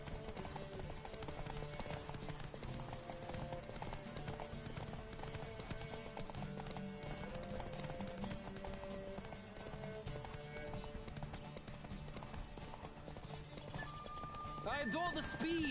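Rhythmic hoofbeats of a galloping horse in The Witcher 3: Wild Hunt run continuously beneath music and game sounds, with a brief burst of effects near the end.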